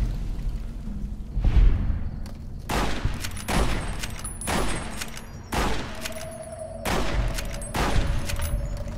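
Heavy gunfire from a gun in Fallout New Vegas, booming shots in irregular bursts roughly a second or two apart, loud and close, with no talking.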